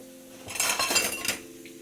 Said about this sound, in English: the problem about doing dishes is, if you don't have a dishwasher, you gotta wash them all by hands